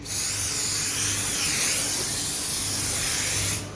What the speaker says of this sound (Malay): Kita spray lagi sekali.